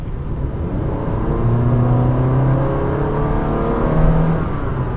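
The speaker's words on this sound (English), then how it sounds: "Full throttle, okay?" Honda City car engine pulling under full throttle, a steady close rumble with a slowly rising whir across the whole stretch and no talk over it.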